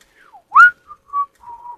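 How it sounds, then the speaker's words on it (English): A person whistles a short run of notes: a rising swoop, then a few steady, clear tones with brief gaps, close and alone. "Whistle."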